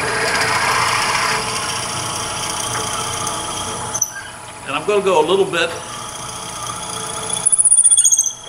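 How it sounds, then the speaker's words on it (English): A 7mm drill bit in a lathe tailstock bores through a workpiece, giving a steady high whine and squeal. It cuts out briefly while someone speaks, then returns near the end. "And now I'm going to drill all the way through."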